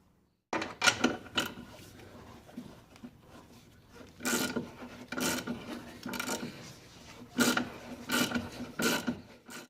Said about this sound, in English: you can continue to use your ratchet to take it off the rest of the way